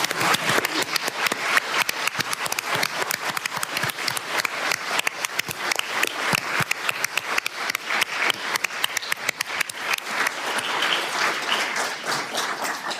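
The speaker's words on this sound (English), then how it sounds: "join me in giving a huge round of applause to your parents" An audience at a US Senate hearing on ending type 1 diabetes applauds the young delegates' parents with a long, steady round of dense clapping, individual claps distinct throughout, with no talking over it.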